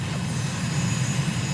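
Aircraft engine drone during a landing in Microsoft Flight Simulator, a steady loud low hum with a tonal rumble, continuous and unbroken, no speech.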